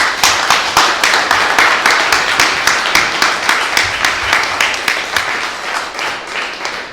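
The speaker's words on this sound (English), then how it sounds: "if you would give an applause to thank our guest, Igor." An audience gives a guest a round of applause, a lively, evenly paced clapping that fades gradually toward the end.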